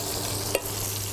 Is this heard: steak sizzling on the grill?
yes